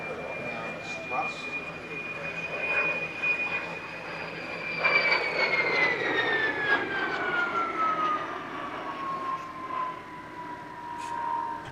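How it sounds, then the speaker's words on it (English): A de Havilland T11 Vampire jet performs an airshow display, a loud sustained whine gliding slowly downward in pitch over a steady roar as it passes, with a distant commentator's voice underneath. "The only T11 Vampire flying in the world, the only Vampire of any kind currently based in the UK, performing its first airshow in 8 years."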